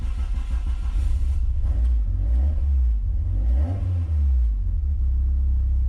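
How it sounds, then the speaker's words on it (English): Peugeot 205 GTi Mi16 fires up and revs, a loud close engine rumble rising and falling through a few throttle blips over several seconds, with no talking. "So basically I'm just firing the car up because the fans have been on for a while, so they don't drain the battery."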